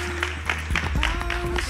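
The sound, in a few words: applause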